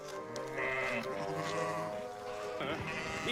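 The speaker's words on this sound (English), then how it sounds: "It's a sheep stampede." Toy sheep bleat in repeated, warbling cries, overlapping one another in a playful toy-train stampede scene with a voice faintly in the background.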